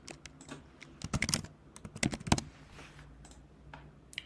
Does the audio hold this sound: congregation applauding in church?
no